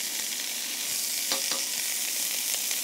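Diced onion sizzles steadily in hot oil in a pan, a constant close frying hiss with a couple of soft scrapes as it is stirred, no voices.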